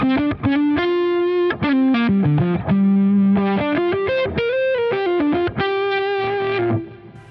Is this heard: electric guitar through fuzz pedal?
yes